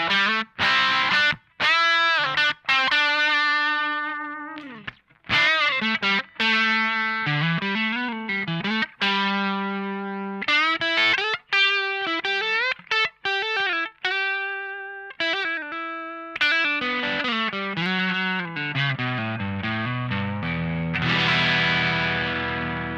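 Electric guitar lead played through a ProCo Rat distortion pedal, loud sustained distorted notes and bends in phrases with short pauses, alone with no talking.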